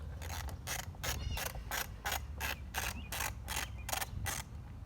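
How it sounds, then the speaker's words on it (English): Rapid clicking of a ratchet wrench loosening a bolt on a Yamaha YZ65 motorcycle, about a dozen evenly spaced sharp clicks close by over a low background hum, with no talking. "Next, you remove this bolt."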